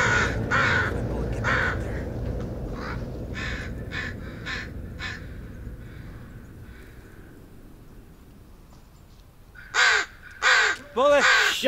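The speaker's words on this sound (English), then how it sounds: "Oh, you're louder than me, crows, on a good day." Crows caw loudly in the Blair Witch horror video game, a run of harsh calls early on, a quieter stretch, then three loud caws near the end, partly under a player's talk and background game ambience.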